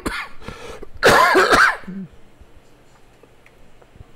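A few harsh, close coughs, the loudest burst in the middle, then a quiet room.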